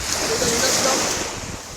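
Steady ocean surf washes continuously, mixed with wind buffeting the microphone; no clear voices stand out.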